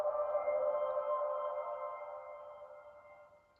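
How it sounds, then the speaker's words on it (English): Zorin OS Linux startup chime on a Mac, a single sustained mellow tone that swells at once and slowly fades away over a few seconds, heard alone with no talking. "that's a little noise that Zorin OS makes when you come onto it"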